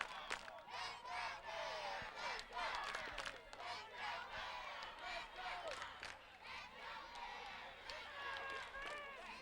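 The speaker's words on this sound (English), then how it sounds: "A chant of "Let's Go Bears."" Youth football crowd at the 2003 Anklebiter final, Waldorf vs St Charles, chanting and cheering in a steady, loud roar, with voices overlapping throughout and led on by cheerleaders.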